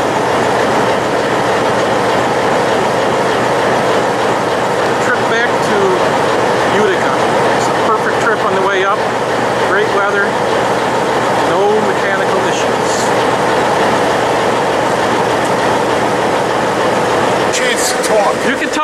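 Locomotives on the Utica–Tupper Lake line run steadily and loudly throughout, with rail rumble and occasional clanking beneath; faint voices are in the background.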